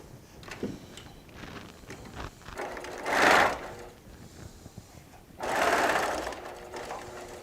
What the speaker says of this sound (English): we're going to sew those 2 units I just made together.